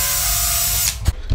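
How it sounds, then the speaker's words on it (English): A power drill whirs loudly and steadily while drilling out a part on an RC vehicle, then stops and is followed by a couple of sharp clunks. "Drill it out."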